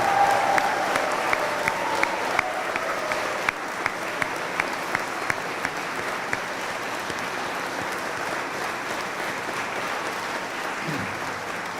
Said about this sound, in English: give a special round of applause to all our graduates here today